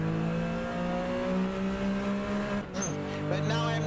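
A 1974 Porsche RSR 3.0 in a racing video game holds a steady, buzzy engine note, then shifts pitch in a brief dip partway through. Tire noise stays very quiet beneath the engine.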